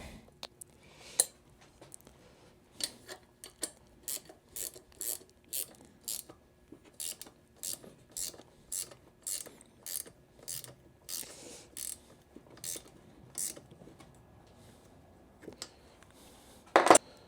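Ratchet wrench tightening two bolts on a turbo mount during a twin-turbo LS swap on a bumpside Ford, heard as steady series of quick clicking bursts with brief pauses, close and clear, with no talk.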